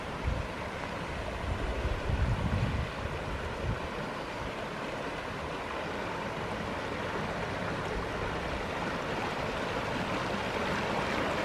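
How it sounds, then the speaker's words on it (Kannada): A steady rushing roar of a fast-flowing, rain-flooded river past a debris-choked dam fills the whole stretch, broad and continuous with slight surges. "ನೀರು ಬಹಳ ವೇಗವಾಗಿ ಹರಿತಾ ಇದೆ"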